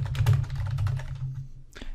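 Typing on a computer keyboard, a quick run of close, moderately loud key clicks over a low steady hum, trailing off near the end with a final few taps.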